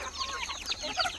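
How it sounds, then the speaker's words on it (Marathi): Free-range village chickens and chicks on a desi poultry farm give quick, high chirping calls, faint and close together, in a burst lasting just over a second. "या कोंबडीचे आहेत पिल्लं काही."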